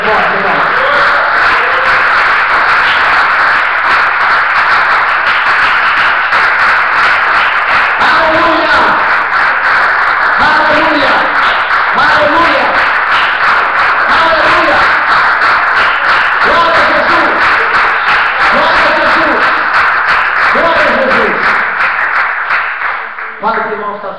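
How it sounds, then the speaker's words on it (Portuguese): A church congregation applauding loudly in steady, dense clapping that carries on throughout, with a voice speaking over it until the clapping fades at the end. "Vamos aplaudir o Senhor Jesus bem forte, irmão."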